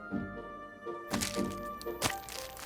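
A glass laughing Buddha statue cracks, giving a few sharp, close snapping cracks and thunks spread over a couple of seconds against quiet background music.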